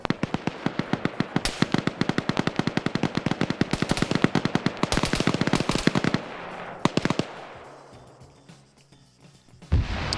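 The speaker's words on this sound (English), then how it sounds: "flanking shots by Wheaton." Rapid bursts of automatic gunfire in a PvP video game match, dense cracking shots for several seconds, then a few scattered shots, a fading tail and a final loud burst.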